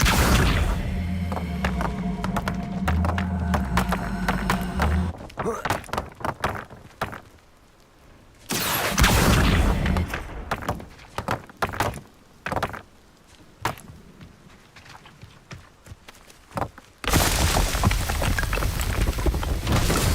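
Accio and Incendio spells are cast in the video game Hogwarts Legacy: loud whooshing bursts and thuds recur between brief quieter stretches, with dense roaring blasts at the start and end.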